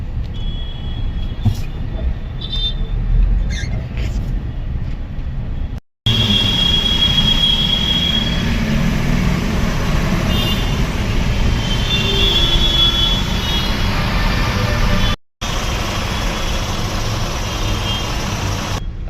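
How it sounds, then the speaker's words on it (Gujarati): A metro train runs overhead amid evening Ahmedabad traffic, with a loud, sustained rumble and wheel squeal, briefly cut off twice, close and continuous with street noise beneath. "ઉપરથી જો મેટ્રો જાય"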